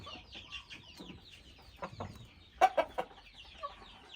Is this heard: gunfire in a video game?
no